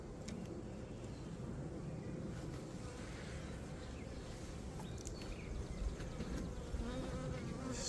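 Honey bees buzz steadily around an opened hive during an inspection of a laying-worker colony, a dense, continuous hum close to the microphone with light wind noise and no talking.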